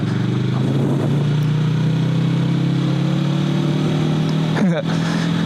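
A motorcycle engine drones steadily at close range throughout a road ride, its pitch slowly climbing, with wind noise and a brief shift-like break near the end while a rider talks over it.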